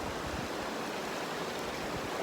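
Ice-cold Montana mountain stream near Fossil Lake, a steady rushing babble of water during a backpacking crossing, constant and fairly close, with no talk.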